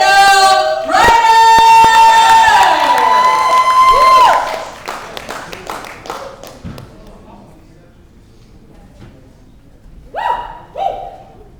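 Audience at a live performance event in Miami applauding and cheering, with loud whoops and calls over a burst of clapping that fades to scattered claps before quieter room noise.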